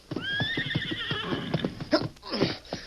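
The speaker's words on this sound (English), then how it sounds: "Fine horse you got there, Fisher." A horse gives a loud, high whinny that quavers downward, while hooves clip-clop close by in a steady beat under it and carry on after the call ends.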